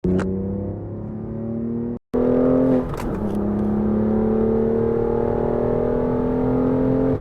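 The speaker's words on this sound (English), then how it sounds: "this Akrapovic exhaust that is on this car is easily one of the most fantastic sounding exhausts that I've ever been around" A 2020 BMW M2 CS with an Akrapovic exhaust revs up close, a loud steady engine drone with rising tones and a brief cut before the note picks back up and holds.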